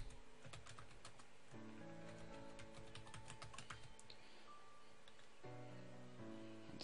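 Quick, light key clicks on a computer keyboard as a password is typed, a steady close-up run of taps with brief pauses, faint and with no talk.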